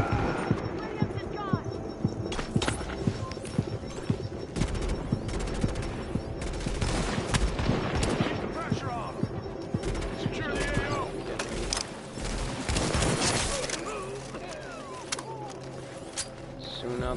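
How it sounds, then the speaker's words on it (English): Rapid automatic gunfire from a strong gun in the shooter game The Division, dense overlapping bursts running throughout under steady game noise, with someone talking over much of it. "Somebody hit a strong gun."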